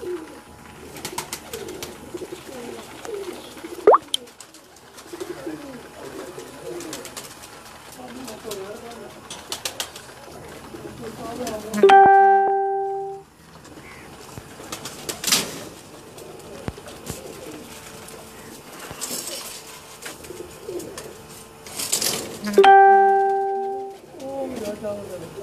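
Pigeons coo in low, soft rolling calls beneath people talking, with two sharp electronic beeps partway through.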